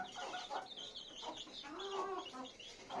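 Frizzle hens with their chicks cluck and chirp softly at close range, a busy run of short calls and peeps heard faintly, with no talking.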